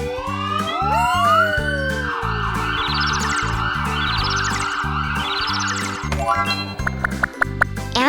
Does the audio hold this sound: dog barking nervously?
no